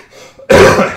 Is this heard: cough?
yes